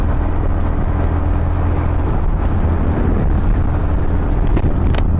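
Steady stream of cars rolling along a highway road in the Philippines, a continuous loud broadband roar of traffic with low rumble throughout and no pauses, in gusty shear-line weather.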